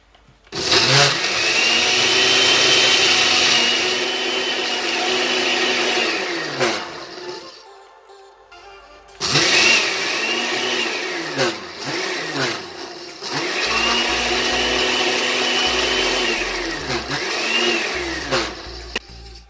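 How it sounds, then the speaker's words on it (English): A blender whirs loudly in three long bursts while blending Jamaican jerk marinade, each winding down before a short pause, the motor pitch shifting as the mixture churns. "Okay, so I'm going to start blending."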